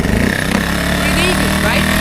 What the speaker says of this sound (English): Let's start the generator.